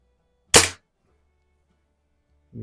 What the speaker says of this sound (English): You hear how hard it's smacking that target.